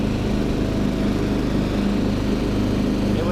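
A Cub Cadet 80 riding lawn mower, an older economy model without shaft drive, runs steadily close by, its small engine giving a constant loud putter with no talk over it.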